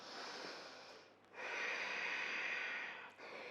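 A long, breathy exhale during a vinyasa yoga forearm plank comes as soft rushing air, a brief pause, then a second sustained, strong outbreath, close and heard alone.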